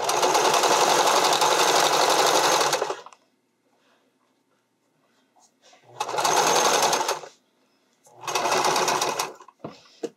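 A sewing machine stitches across the elastic at the bottom front edge of a bodysuit in three loud, close bursts, a long run followed by two shorter ones, with quiet pauses between.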